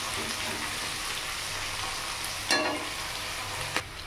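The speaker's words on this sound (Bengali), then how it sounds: "পেঁয়াজটাকে লাল লাল করে ভেজে নিই" Onions sizzle and fry in a pan over a high gas flame for a fish dish, a steady crackling hiss broken by a couple of sharp stirring clacks.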